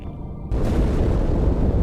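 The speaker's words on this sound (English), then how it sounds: "That explosion came from inside the Athens, same as the Malta." A sudden heavy blast erupts inside the Athens space station in the video game Halo 2. It cuts in abruptly after a low hum and swells into a loud, sustained, roaring rumble.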